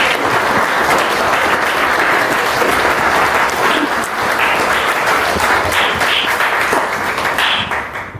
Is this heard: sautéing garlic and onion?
no